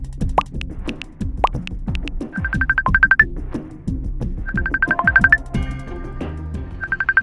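A mobile phone's ringtone signals an incoming call in a Tamil drama, with quick repeating beeps in three separate bursts over loud, plucky background music.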